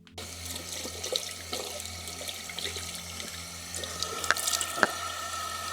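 A bathroom sink tap runs steadily with cold water while a face is washed, making a close, continuous splashing stream with small spatters and drips, and no talking.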